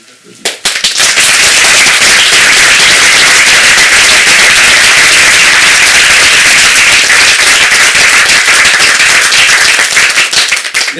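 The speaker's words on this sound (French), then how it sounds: "je demande à l'assistante de bien vouloir vous applaudir." An audience at a conference on talking about death breaks into sustained, dense applause that starts abruptly and continues loud and steady for about ten seconds.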